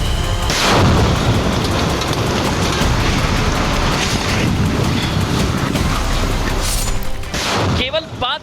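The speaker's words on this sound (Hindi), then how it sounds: "केवल 5 सेकंड में बिल्डिंग के पिलर में बड़ा धमाका और चंद सेकंड में कई मंजिला इमारत धराशायी हो गई" Controlled explosive demolition of a multi-storey building: a sudden loud blast followed by a long, heavy rumbling roar of collapse, with a second burst near the end.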